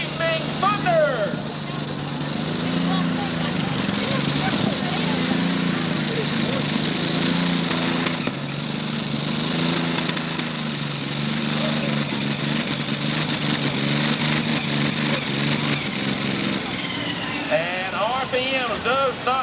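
Supercharged super stock pulling tractor at a 1995 Woodbury, Tennessee tractor pull, its engine spitting and popping as the revs refuse to climb, a loud continuous rumble with an announcer talking over it throughout.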